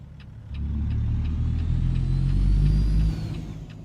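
A truck engine revving in a trucking simulator game, a deep low rumble that swells in a steady rising rev for a few seconds and then drops back, close and without speech.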